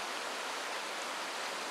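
Rushing river pocket water on a fly-fishing stream pours in a steady, even broadband wash, a constant close hiss with no pauses and no voices.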